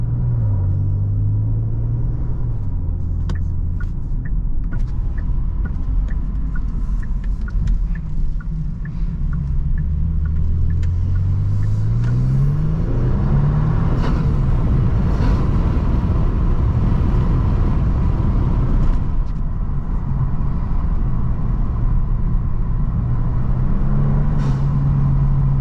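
A tuned 450 hp 2023 Genesis G70 engine drones steadily from inside the cabin while driving, with low rumbling tones that rise and fall through several gear changes across the run, no voices.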